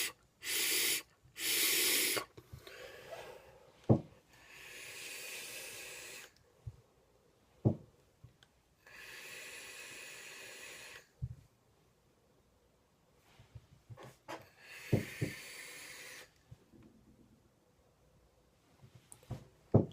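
Air hisses through a vape clearomizer with its airflow fully open. Several long, breathy draws come up close and clear, with quiet pauses between them.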